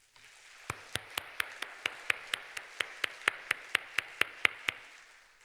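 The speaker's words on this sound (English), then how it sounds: "please also join me in thanking them with a big round of applause" Steady, evenly spaced claps, about nineteen in a row, ring out at a graduation ceremony in thanks to the graduates' families, sharp and moderately close over a soft room hiss with no talking.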